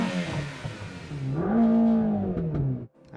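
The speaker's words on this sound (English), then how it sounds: "it has a flat-plane crank, just like a Ferrari, to help it rev higher. However, as a result, it doesn't sound so good." A Mercedes-AMG V8 with a flat-plane crank revs up in one swelling, buzzy pull that peaks and then drops off sharply, loud and close with no talking.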